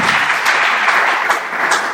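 A Pentecostal church congregation in Côte d'Ivoire applauds, steady dense clapping that fills the room, loud and continuous with no voices over it.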